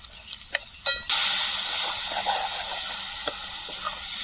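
Masala sizzles loudly in a hot pan as it is stirred, with a few scraping knocks at the start and then a steady close frying hiss that continues to the end.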